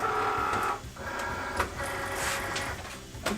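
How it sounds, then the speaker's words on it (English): A Cricut cutting machine draws in a loaded mat with a steady, quiet mechanical whir and soft feeding clicks, heard close and alone with no talking. "And I will load the mat into the machine."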